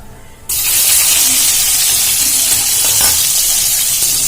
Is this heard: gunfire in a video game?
no